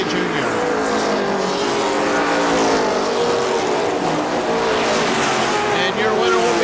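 Race cars howl around the track at KilKare Speedway during the final lap of a Labor Day race, engines loud and sustained with rising and falling pitch as cars pass, and talk is faintly mixed in.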